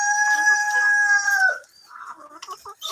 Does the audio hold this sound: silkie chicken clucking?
yes